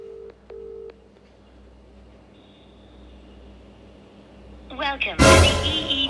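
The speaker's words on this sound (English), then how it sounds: "Literally ringing now." A telephone ringing tone sounds as a quick double pulse over the line, followed by a quiet stretch, then a voice begins near the end.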